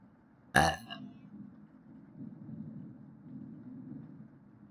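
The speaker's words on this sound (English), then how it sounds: "I'm gonna burp." A single loud, close burp from a person in a living room after eating crusty bread and jam, followed by a quiet room murmur.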